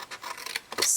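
A pair of scissors snips slits into a sheet of paper for a large paper purse, giving a quick run of short, close crisp cuts and rustles in about a second.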